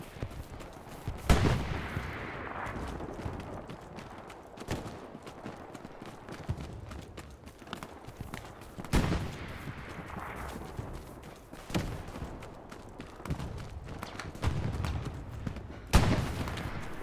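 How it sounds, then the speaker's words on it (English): Machine gun fire in the Hell Let Loose shooter game: sharp bursts and single heavy shots crack out at intervals, some near and loud, others distant and echoing over a busy battlefield backdrop. "There's an MG on the church roof."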